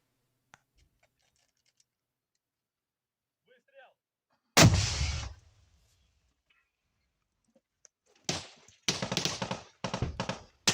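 Gunfire from fighting in the Ukraine war, a single heavy blast with a decaying rumble, then a burst of several sharp, loud shots close together after a few seconds of near silence.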